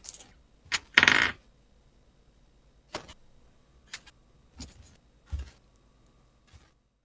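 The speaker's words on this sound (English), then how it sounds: "These are new sleeves, so they need as much shuffling as possible." Sleeved Magic: The Gathering cards being shuffled, heard as a handful of separate sharp riffling bursts and soft slaps spaced out over several seconds in an otherwise quiet room.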